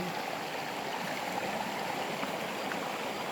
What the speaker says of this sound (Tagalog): Sapa siya, papuntang bukid.